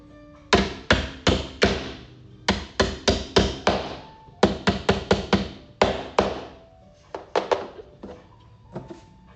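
Sharp hammer taps strike in quick bursts of three to five blows while an IKEA drawer is put together, loud and close, separated by short pauses, with no talking.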